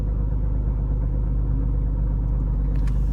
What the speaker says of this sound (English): So here now the car's running.